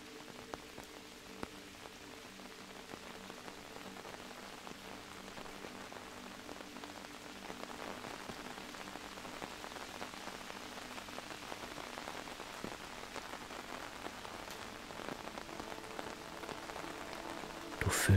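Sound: steady rain pattering on an umbrella

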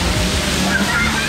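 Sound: water splashing at a water park

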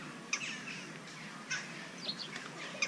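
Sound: sparrows chirping at a zoo

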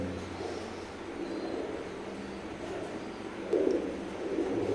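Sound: Oman bloodline Teddy pigeons

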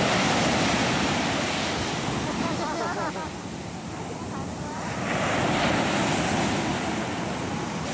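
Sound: ocean waves crashing on the shore

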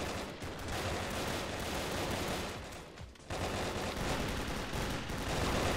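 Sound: pistol gunfire in video game Brick-Force

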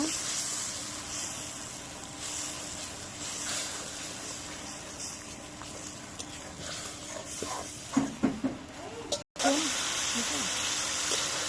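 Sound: spice paste (masala) sizzling while being fried in oil

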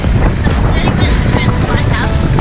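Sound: strong wind

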